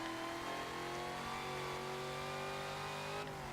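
A Dodge drag car in Forza Motorsport 7 holds a smooth, high engine rev with a rising whine, loud and continuous, then eases off near the end.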